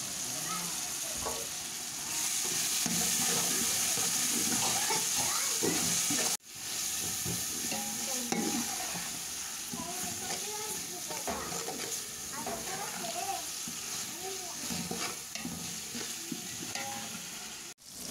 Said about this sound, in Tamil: புதினா கொத்தமல்லியை சேர்த்துட்டு இதே கொஞ்சம் நேரம் வதங்க விடலாம்.